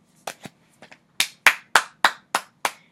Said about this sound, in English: round of applause for us Cancers for finally putting our feet down and saying no